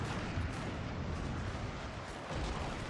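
Mortar artillery fire in the Total War: Fall of the Samurai battle game: dense, continuous rumbling booms and crackling bursts, loud and sustained throughout with no talk.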